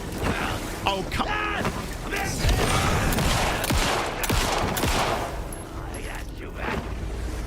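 Rapid gunfire and booming shots from the video game Alan Wake 2, dense and loud throughout, with a voice talking over the firing.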